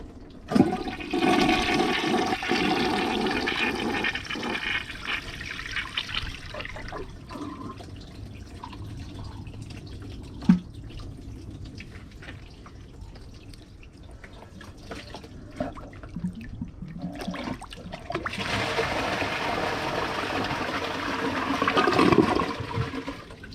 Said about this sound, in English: I'm gonna give it a second flush after the tank is full.